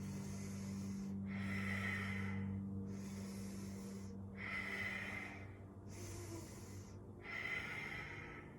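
Deep, steady breaths held in a hatha yoga goddess pose, five slow rhythmic inhale-exhale cycles each lasting about a second and a half, close and clear with airy hiss over a low background hum.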